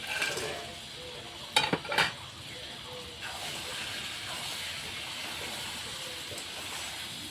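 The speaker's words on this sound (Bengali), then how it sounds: "পনিরটা দিয়ে একটু নাড়াচাড়া করে দেব" Fried paneer being stirred in a sizzling pan for restaurant-style chilli paneer with soy sauce and gravy, a steady near hiss with a few brief scraping clatters early on.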